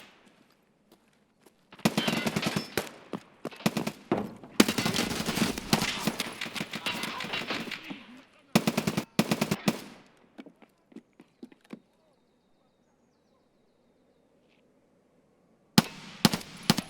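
Turret machine gun fire in a video game: dense rapid bursts over roughly seven seconds, then a shorter burst, quieter trailing shots, a pause and a final burst, all loud and close with no talking.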